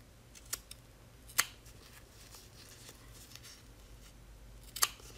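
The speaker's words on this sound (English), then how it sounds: "you're going to cut right on that stitching line" Scissors snipping appliqué fabric along a stitched line, a few sharp, quiet cuts spaced apart over a faint steady hiss, close by and without talk.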